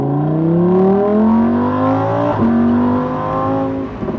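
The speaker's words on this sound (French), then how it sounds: "l'idée, c'était vraiment juste laisser parler le V10. Le moteur fait la conversation." Lamborghini Huracán EVO with a 640 hp V10 revving loud and close, the pitch sweeping up through the gears, dipping sharply near the midpoint, then climbing again in a sustained high-rev wail with no talking over it.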